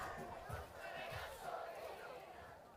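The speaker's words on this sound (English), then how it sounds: "this Lancers loud crowd is getting hype" A loud crowd at a varsity football game cheers and roars in a low, rumbling mass, swelling in a few pulses over a couple of seconds, heard from a distance at low level.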